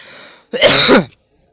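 One short, loud cough up close, preceded by a faint breathy sound and followed by silence.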